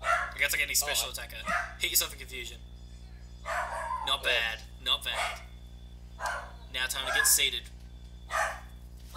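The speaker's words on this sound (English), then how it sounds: "If you can hear that, that's my dog." A dog barks in the background while a person talks over a Pokémon X and Y online battle; the barks are faint and mostly masked by the voice.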